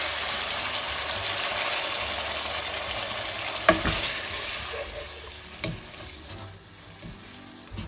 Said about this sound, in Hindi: अब इस पॉइंट पे हम 150 ml क्रीम डाल देंगे।